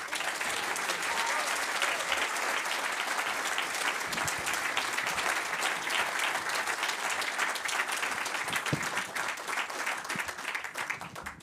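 A large audience at a French political party rally bursts into sustained, dense applause as party president Éric Zemmour is welcomed, the clapping steady and loud throughout with a faint murmur of the crowd.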